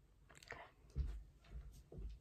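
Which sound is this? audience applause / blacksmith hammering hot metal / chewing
chewing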